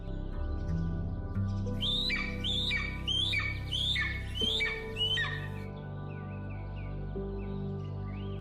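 A Philippine eagle calls in a run of about six shrill, rising squawks at a steady rhythm, loud over a low sustained background drone, then falls quiet.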